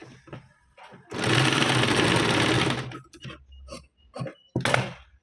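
A sewing machine runs a diagonal stitch joining strips of piping for a blouse: one steady whirring burst of about two seconds, framed by soft clicks and fabric handling.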